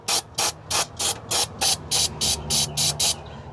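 Carb cleaner sprays into the engine of an old abandoned International truck in about a dozen short, loud, evenly spaced hissing bursts, close up, with no talking.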